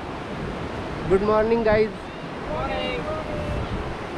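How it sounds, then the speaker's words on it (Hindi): Morning sea waves at Colva Beach in Goa wash in as a steady broadband roar, with someone talking over the surf for part of it. "सुबह सुबह का वक्त है और जो लहरें हैं समुंदर की, बहुत बेहतरीन, इतना फ्रेश समुंदर है"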